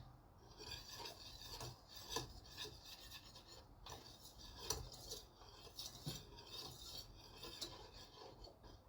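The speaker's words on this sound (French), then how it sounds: "on va mélanger" Beignet dough with salt is mixed in a bowl, giving a soft, continuous rasping and rubbing scrape with irregular strokes, close and quiet, with no voices.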